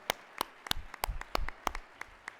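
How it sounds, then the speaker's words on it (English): A few people clap slowly and sparsely at a gala event, with individual sharp claps spaced apart at a fairly quiet level and no talking. "Let's give them one more round of applause."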